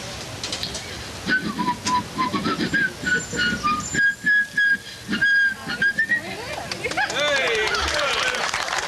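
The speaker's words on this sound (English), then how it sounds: "Take the microphone and whistle Dixie." A person whistles the tune Dixie into a microphone, a clear wavering melody of sliding notes and short phrases over light background noise and murmuring from a room of people.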